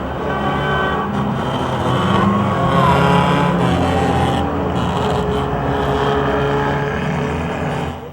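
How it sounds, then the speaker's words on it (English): Stock race cars at Motordrome Speedway sound their horns in a salute before the race, a dense cluster of overlapping toots and idling engines held steady for several seconds, fading slightly at the end. "Let's hear the salute of car horns from the Advance Auto Parts American Flyers."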